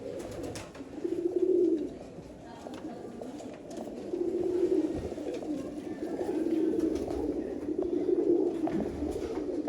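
Soft, repeated cooing from Sialkoti pigeons nearby, low and throaty, rising and falling in steady phrases over faint background noise.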